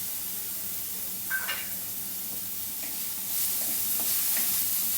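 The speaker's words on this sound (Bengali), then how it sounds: "এবার পেঁয়াজটাকে আমি ভালো করে ভেজে নেব, লাল লাল করে।" Onions with salt and chopped curry leaves frying in a pan for sweet potato paratha, giving a steady close sizzle and hiss with occasional stirring scrapes.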